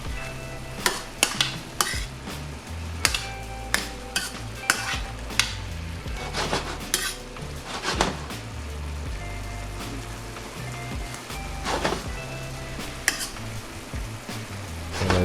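Mushrooms frying with Budweiser beer in a pan sizzle steadily while a utensil stirs and scrapes against the pan in irregular clanks and taps, up close and with no talking.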